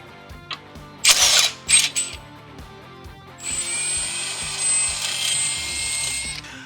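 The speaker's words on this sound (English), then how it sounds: "we're going to drill the holes out." A power drill whines in short bursts, then runs in one sustained high-pitched grind for several seconds while drilling out holes in a 1987 Buick's metal shock tower, close by and loud, with no talking.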